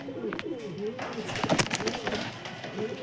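A pair of Star Kalanka pigeons coo softly and repeatedly nearby while someone talks over them.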